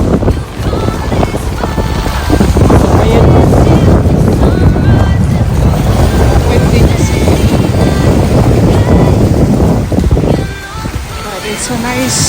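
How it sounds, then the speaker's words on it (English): Strong gusts batter the microphone at a lakeshore waterfront in Barrie on a sunny day, a loud rumbling buffet with water lapping beneath that eases near the end; a voice speaks faintly under it. "It's a nice day, sunny day, but it's windy."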